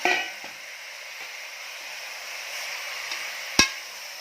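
Mutton for a Kolhapuri dry curry and red gravy is mixed in a cooking pot under a steady, quiet sizzle, with a few soft scrapes and one sharp knock of the spoon against the pot.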